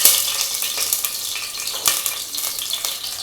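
Fennel seeds, poppy seeds, cardamom and cloves crackle and sizzle in hot oil for a crab curry, a bright steady hiss with small pops and a light stir of a pan.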